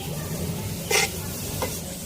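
Grated carrots frying in a pan for gajrela, a carrot dessert, with a continuous close sizzle and a couple of brief scraping stirs of a spoon against the pan.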